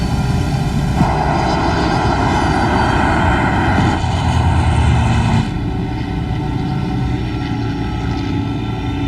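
A fixed-wing airplane's engines at takeoff power roar loud and steady, with a brighter surge in the middle before the noise eases slightly, and no talk over it.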